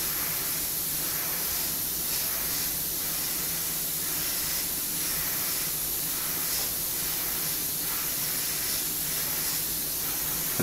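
An airbrush sprays paint through a stencil to darken a rivet shadow, giving a steady close hiss that runs unbroken and evenly loud throughout.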